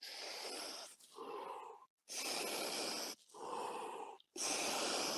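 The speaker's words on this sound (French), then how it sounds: "On expire, on inspire profondément." Slow, deep breaths drawn in and pushed out, several long inhales and exhales close to the mic with short pauses between them.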